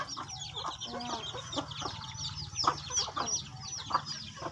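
Several chickens clucking and chattering close by, irregular overlapping calls with soft background rustle.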